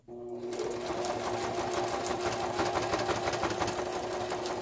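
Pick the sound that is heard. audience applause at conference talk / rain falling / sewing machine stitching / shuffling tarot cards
sewing machine stitching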